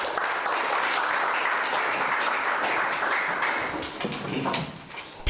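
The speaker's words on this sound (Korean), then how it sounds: "박수로 환영하겠습니다." A studio audience applauds warmly to welcome a pastor onto a Christian broadcast program, a steady wash of clapping that thins toward the end.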